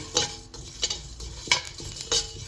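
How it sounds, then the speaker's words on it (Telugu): Coriander seeds and sesame seeds dry-roasting in a pan, stirred with a utensil in four distinct scraping, rattling strokes over a faint background hiss. "ఇవి మొత్తంగా మంచిగా ఫ్రై అయ్యేలాగా చేసుకున్నాను"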